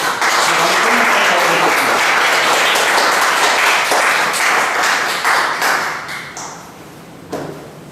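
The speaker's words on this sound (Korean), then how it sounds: "박수로 맞이해 주시기 바랍니다." An audience at a commemorative lecture event applauds warmly, a full, dense wave of clapping that holds steady for several seconds before thinning and fading out near the end.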